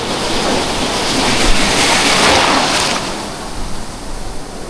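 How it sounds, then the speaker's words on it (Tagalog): Ocean surf breaking on Casapsapan Beach, a surfing beach, with a loud continuous roar that swells into a crash and then eases back into a wash. "ito daw yung may pinaka-solid na alon, pang surfing"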